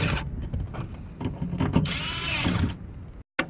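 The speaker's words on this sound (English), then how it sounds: "I'm just going to use my driver to tighten these up" A power driver whirs in short bursts while tightening fuel filter housing bolts on a 2003 Lexus IS300, with close mechanical buzzing, clicks of handling and a brief cut at the end.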